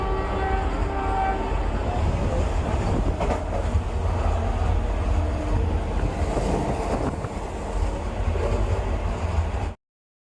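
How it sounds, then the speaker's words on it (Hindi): A Vande Bharat express train in motion, heard from inside as a steady loud rumble and rattle with some wind noise, continuous until it cuts off abruptly near the end. "और अब हमारी ट्रेन सहारनपुर के लिए आगे बढ़ रही है।"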